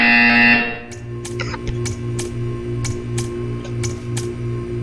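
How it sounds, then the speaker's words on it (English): A buzzer sounds in the Portal 2 video game, a loud harsh burst at the start, then a rhythmic electronic pulsing hum with regular ticking clicks. "You will hear a buzzer."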